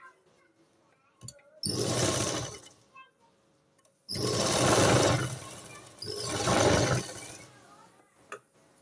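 A sewing machine runs three separate bursts while stitching a double seam on a nighty frock, each a loud, steady close-up whir lasting one to three seconds, with quiet gaps between.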